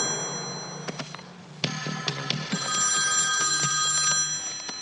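A telephone rings indoors with bright, repeated electronic tones, joined by a few sharp clicks and knocks, steady and fairly loud throughout.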